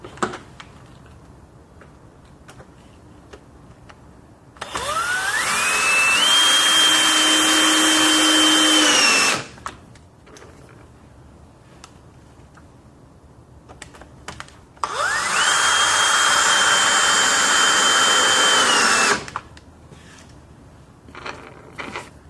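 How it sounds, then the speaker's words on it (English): A power driver sinks the last wood screws into an activated-carbon bass absorber panel, with two long, loud, whirring runs of several seconds each, rising in pitch, separated by quiet handling noise. "I thought I would ceremoniously show you the last few screws of the project."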